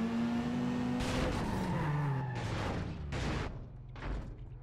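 A Mazda RX-8 races in the Need for Speed Carbon video game, its engine note sweeping in pitch with tire squeal and skidding, loud and close with no talk.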